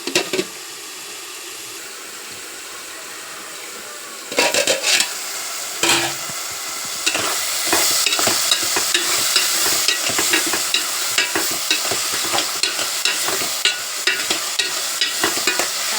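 Onion and tomato sizzle steadily as they fry in a pan for a Telugu-style onion tomato curry, with repeated spoon scrapes and stirring clatter close by and no talking.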